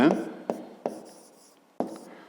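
A pen scratches across a maths exercise book in short strokes, four distinct marks with brief pauses between them, close and fairly quiet.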